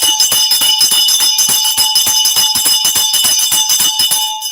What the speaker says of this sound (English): Ring my bell for Rishi.